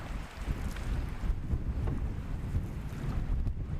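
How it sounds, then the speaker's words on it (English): Steady, blustery wind buffeting the microphone with a low rumble, mixed with the wash of water against a moving canoe running before a strong tailwind on a wilderness lake; no voices. "this tailwind is so strong it's almost hard to control"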